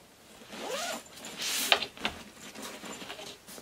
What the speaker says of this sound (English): So we'll zip this up.